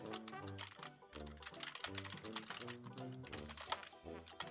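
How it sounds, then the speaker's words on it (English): Rapid, uneven clicking of keys on a computer keyboard, close by, tapping continuously in quick bursts. "Who are you typing to?"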